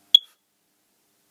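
A smart wireless smoke detector alarm gives a single short, sharp high beep, close and clear, followed by silence.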